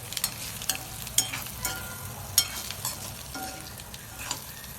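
Boiled egg bhurji being stirred and mixed in a pan, with quiet frying underneath and repeated sharp scrapes and taps of the spatula at irregular intervals.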